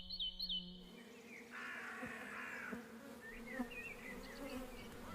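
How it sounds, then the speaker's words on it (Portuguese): Honeybees buzz around an apiary of some two dozen colonies at a forest edge, a near, continuous drone with bird calls chirping and a crow cawing faintly in the background. "O mesmo acontece com as abelhas melíferas, os polinizadores que começam o seu dia mais tarde."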